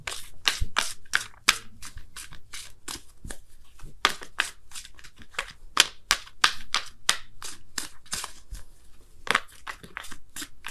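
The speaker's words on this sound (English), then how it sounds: "I'm going to pull you guys a Wisdom of the Oracle card as well" Wisdom of the Oracle cards shuffled by hand, producing a rapid, irregular string of crisp slapping and riffling snaps, close and fairly loud, continuing throughout without speech.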